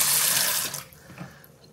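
Water runs from a tap onto a rock being cleaned at a sink, a loud steady splash that cuts off after under a second, leaving faint handling noises and a brief knock at the end.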